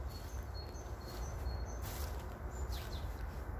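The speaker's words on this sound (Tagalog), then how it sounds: "Mga ibon. Kaya sila umaawit." Several birds singing outdoors in the morning, with short high chirps and thin calls scattered over a steady background hiss and low rumble, fairly faint and continuous.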